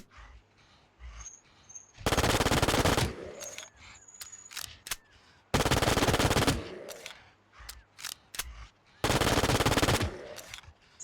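B93R pistol fire in the video game Infestation comes as three long bursts of rapid, loud shots separated by quieter gaps with faint clicks.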